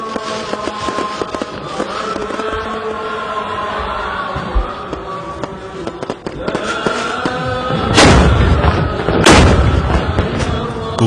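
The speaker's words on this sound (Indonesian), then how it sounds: "Kumandang suara takbir dimeriahkan dengan dentuman suara meriam karbit yang menggelegar." Carbide cannons boom along the Kapuas River in Pontianak during an Eid eve celebration, heavy deep blasts over a busy outdoor background, with two especially loud booms near the end and voices present.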